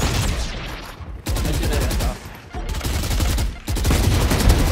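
Valorant gunfire crackles in fast, dense bursts, loud and close, separated by two short pauses where the shooting briefly drops away before resuming.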